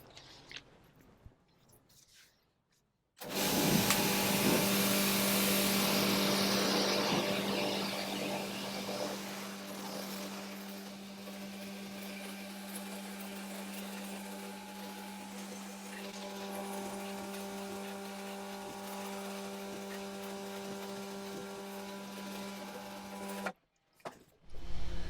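AVA Master P60 pressure washer spraying on a higher setting, a loud steady hiss with a constant motor hum that starts abruptly, runs strong for about twenty seconds, then cuts off.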